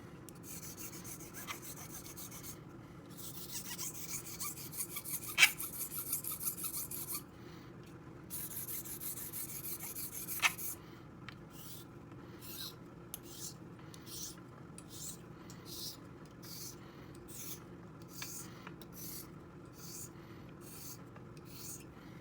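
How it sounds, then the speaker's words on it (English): A straight razor's bevel is honed on a 1200 grit whetstone, giving close, soft scraping strokes in a steady back-and-forth rhythm with brief pauses, quiet and dry, with faint occasional ticks. "So now that we've switched to the 1200 grit, we're really starting to work that bevel into it"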